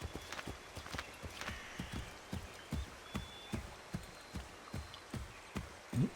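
Horse galloping in the video game Assassin's Creed III Remastered, a quick, even run of hoofbeats about twice per second, close and fairly quiet, with no talking.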